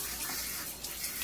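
Tap water pours in a steady, close splashing rush as it rinses a clay dog figure, hissing evenly without any voices.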